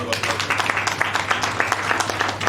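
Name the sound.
audience applause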